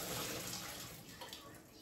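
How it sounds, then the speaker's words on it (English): Pasta water poured from a pot into a bowl of Szechuan-style noodles, a steady close splashing pour of liquid that runs for about two seconds without pause. "I'm just going to pour like the tiniest little amount of pasta water in there"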